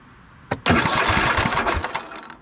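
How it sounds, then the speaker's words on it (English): A Cub Cadet RZT zero-turn mower engine cranks over after a brief click, churning in a rapid rhythmic chug for nearly two seconds before winding down, close and loud. "I'm gonna turn over the engine, see if we can see some spark."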